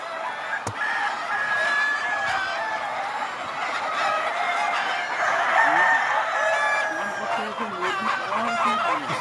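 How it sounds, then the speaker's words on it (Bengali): On a large poultry farm raising native chickens, dense clucking and repeated rooster crowing fill the air continuously, many birds close by, with faint voices underneath. "এখানে এতটাই মুরগির আওয়াজ যে আওয়াজে হয়তো সেটা সবার মাধ্যমে পৌঁছাবে না"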